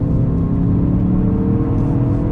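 A Ford Focus RS accelerates hard while overtaking on a road, a loud steady engine roar and drivetrain rumble heard from inside the car, with no talking over it.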